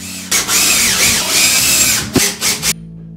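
A power drill drives screws into cement board during a shower installation, a loud sustained whine with pitch sweeps, followed by a few short revving pulses before it stops.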